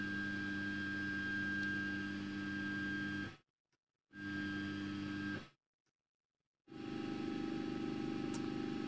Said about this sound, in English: So we're gonna home the entire machine.